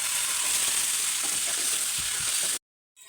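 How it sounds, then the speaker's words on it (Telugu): Cooked mutton tipped into a pan of browned fried onions sets off a loud, steady close-up sizzle with faint stirring scrapes, cutting off abruptly near the end before a brief return. "మటన్ ఉడికించి పక్కన పెట్టుకున్న మటన్ ఇందులోనే వేసుకోవాలి"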